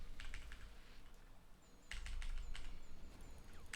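Computer keyboard typing comes in quick clusters of crisp clicks, a short burst, a pause, then a longer run of keystrokes, fairly close and quiet with faint chirps in the background.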